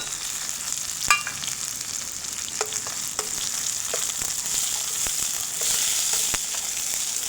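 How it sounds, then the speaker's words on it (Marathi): Garlic sizzles and fries steadily in hot oil, golden browning, with a constant crackling hiss and a few sharp stirring clicks and taps close by, no voices. "तेल किती छानपैकी गरम झालेलं आहे। लसूण टाकून घेतलेला आहे मी।"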